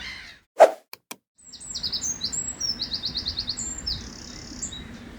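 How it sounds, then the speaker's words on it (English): A wren sings from a tree during a spring dawn chorus in a nature park: after a few brief knocks, a long, rapid, trilling song runs on close and clear with no talk over it. "we've got a wren singing up here at the minute"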